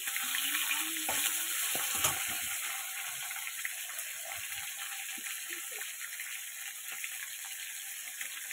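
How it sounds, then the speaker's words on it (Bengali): Fish frying in a pan gives a steady, close hiss and crackle of hot oil throughout, with faint kitchen clatter early on and no voices. "মাছগুলো ভাজা হয়ে গেছে।"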